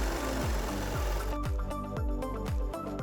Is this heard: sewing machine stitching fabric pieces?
yes